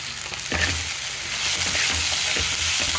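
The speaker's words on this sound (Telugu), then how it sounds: "రొయ్యలు వేగిపోయినాయండి. మా పిల్లలు నీసు వాసన అది వస్తే తినరండి. మనకి ఎక్కువగా వేగాలి. అందుకే నేను ఇలా బాగా డీప్ ఫ్రై చేశాను." Prawns seasoned with turmeric and salt deep frying in hot oil, a steady dense sizzle with low bubbling swells and occasional stirring, close and continuous with no talk.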